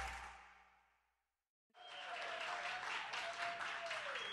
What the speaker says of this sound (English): Would you listen to this crowd here tonight?